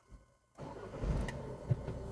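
A car engine cranks briefly and then catches, settling into a steady running rumble close by after a quiet moment.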